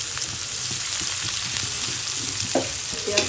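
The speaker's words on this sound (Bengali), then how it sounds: "পেঁয়াজটা ভেজে নিব।" Chopped onion with nigella seeds sizzles in hot oil, a loud, close, continuous frying hiss with a few stirring scrapes and no talk.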